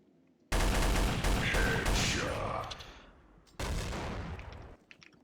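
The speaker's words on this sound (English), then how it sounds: "What if I, like, lay some suppressive fire from down here?" Machine gun suppressive fire in Counter-Strike: Source: two long, loud, close bursts of rapid automatic shots, the first lasting about three seconds and trailing off, then a short pause before the second.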